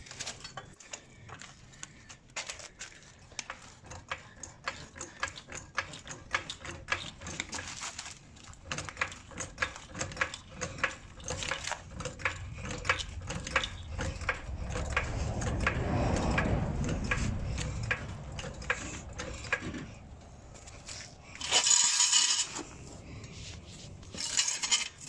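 Metallic clicks and scrapes come from a trolley jack being positioned under the chassis rail of an Audi TT and pumped, with irregular ratcheting knocks and a rising rasp partway through.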